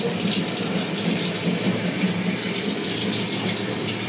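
Continuous gush of water streaming from a foot-pedal operated tap in an Indian train toilet, a steady close hiss without pauses.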